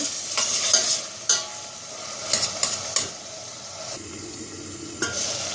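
Onions frying in a pan for Turkish cabbage stew, with a steady broadband sizzle, broken by several sharp scraping clicks as they're stirred, close up and fairly quiet.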